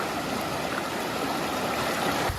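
Chudi Khola, a small stream running high and fast after a night of rain, gives a steady broadband rush of flowing water, close and continuous, with no voices.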